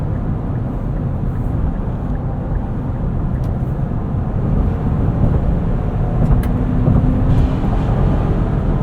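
Cabin of a 2023 Nissan Pathfinder Rock Creek Edition with a 9-speed automatic cruising on the road, a steady low engine and road rumble, fairly loud and unbroken.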